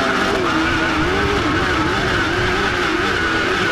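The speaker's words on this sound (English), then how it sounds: "You can hear the engine note rising as the cars hit the bump" A rallycross car engine at Knockhill roars loud and close throughout, its pitch climbing and wavering as the car hits a bump during a British Rallycross Championship race.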